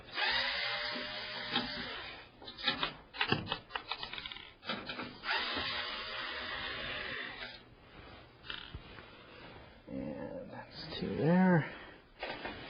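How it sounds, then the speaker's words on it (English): An electric screwdriver backs screws out of a computer chassis motherboard tray in repeated short whirring bursts, close and fairly loud, ending with a rising and falling motor whine. "I'm going to use my electric screwdriver and take these screws off."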